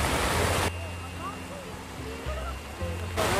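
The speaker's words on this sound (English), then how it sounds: "Here we can enjoy beautiful waterfalls." A man-made waterfall at Katara Hills in Qatar rushes with a steady broadband roar, loud at the start and end, with voices chattering and someone speaking over the water in between.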